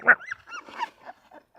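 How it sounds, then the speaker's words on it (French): A dog gives a short yelp followed by a string of softer whining, whimpering barks, close by. "Un petit aboiement pour le spectacle."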